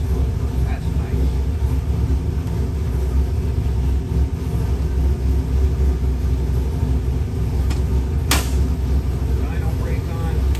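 A Ford 427 cubic-inch Dart crate performance engine runs on a dyno, a dense, loud, steady low rumble filling the room, with a brief sharp click near the end.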